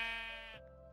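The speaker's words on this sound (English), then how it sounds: "sometimes a sheep might escape." Sheep bleating in the game Minecraft, a single drawn-out wavering bleat heard close and clear, fading slightly toward the end with no talk.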